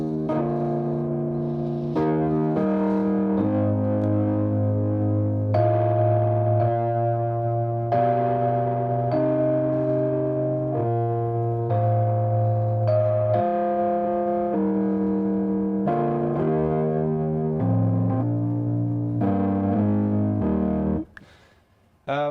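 A distorted Rhodes electric piano plays sustained chords and melody lines, gritty and saturated, continuing steadily before cutting off near the end.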